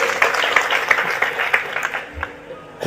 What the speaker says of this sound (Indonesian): Tepuk tangan untuk Mas Robert.